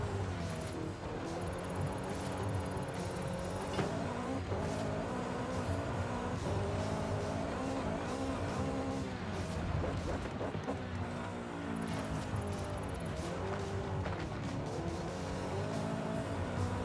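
A shifter kart tearing across dirt in Forza Horizon 5, its high-revving engine buzzing continuously with tire scrabble and skids, loud and close for the whole stretch.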